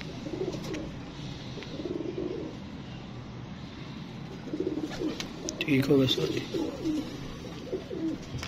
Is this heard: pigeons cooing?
yes